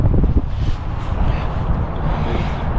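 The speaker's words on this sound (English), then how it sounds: "that wind's a little bit cold this morning" Cold morning wind buffets the microphone outdoors on a winter fishing trip in Tennessee, a steady loud low rumble and whoosh that fills the clip without talking.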